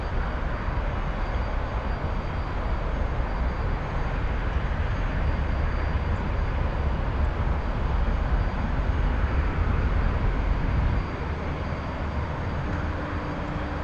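T-45 jet engine in the DCS flight simulator during a takeoff climb, a loud, steady broadband roar lasting throughout, easing slightly near the end.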